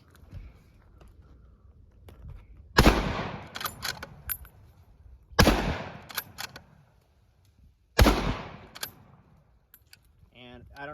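A Savage 340A bolt-action rifle in 30-30 fires three loud, sharp shots spaced a few seconds apart, each followed by a short echoing tail, with faint handling noise between them.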